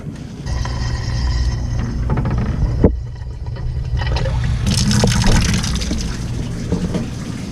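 Water runs steadily from a boiler drain valve on a Weil-McLain Ultra Plus boiler, a continuous close rushing and splashing flow with a brief surge partway through.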